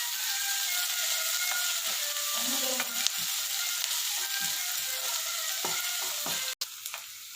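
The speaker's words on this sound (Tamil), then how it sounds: "ஆனியனை நல்லா ப்ரௌனிஷ் ஆகிற வரைக்கும் நல்லா ஃப்ரை பண்ணி எடுத்துக்கணும்" Onions frying in a pan with salt until browned, a constant close sizzle with occasional scraping and clicking from a stirring spoon, ending in a sharp clack and a moment of quiet, without talking.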